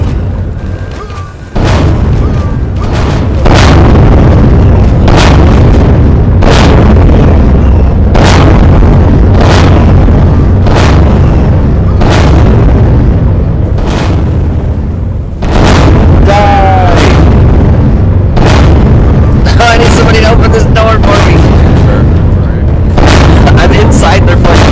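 Repeated loud explosions as a base is blown up in a video game, heavy booms arriving every second or so over a constant roaring rumble, with a voice talking throughout.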